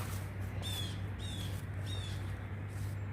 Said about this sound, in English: So, hear those blue jays?